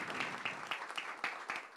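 Audience applause at a tribute event in a hall, a steady wash of hand clapping with individual claps popping out, moderately close and not very loud, with no talking over it.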